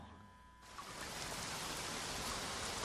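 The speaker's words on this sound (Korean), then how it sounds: "정오 무렵 소나기가 퍼부었습니다." A heavy rain shower bursts in after a quiet half-second, then pours steadily and loudly as a dense, even hiss with no voices.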